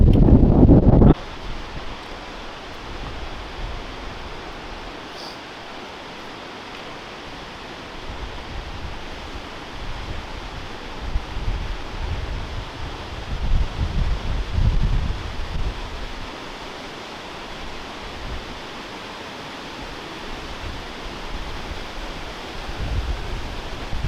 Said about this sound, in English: I'm going to take you quite a bit closer to the waterfall.